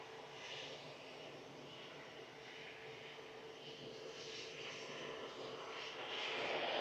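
An easyJet A320 Classic jet rumbles at Manchester Airport, a faint, distant broadband roar that holds steady and slowly grows louder toward the end.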